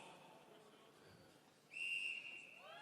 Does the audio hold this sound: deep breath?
no